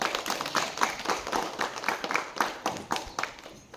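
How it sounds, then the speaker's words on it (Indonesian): A classroom audience claps for two student groups after a shot put presentation, a steady dense patter of many hands at moderate volume with no talking. "kita kasih aplaus untuk kedua-dua kelompok"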